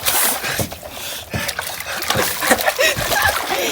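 Water splashes and sloshes repeatedly as someone bathes in ice water, close and loud throughout, with irregular splatters and pours and the bather's shivering voice briefly under the noise.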